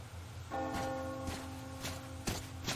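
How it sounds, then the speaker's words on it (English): A bell tolls with a sustained ringing tone over muffled ambient noise, accompanied by scattered thuds and footstep-like knocks. "Do you hear that bell?"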